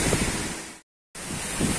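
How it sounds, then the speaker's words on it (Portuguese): Air is blown backwards through a filter at the CORSAN water treatment plant in Campo Bom, making a steady loud rushing, bubbling roar that cuts out completely for a moment midway before resuming just as strongly. "nesse momento, nós estamos soprando o filtro"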